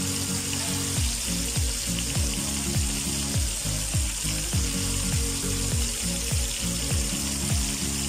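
Chicken pieces seasoned with turmeric and pink Himalayan salt fry in hot oil, giving a steady, dense sizzle that stays loud and unbroken throughout, with a faint rhythmic low thumping beneath it.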